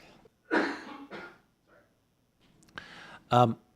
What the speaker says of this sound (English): I'm still having this cough.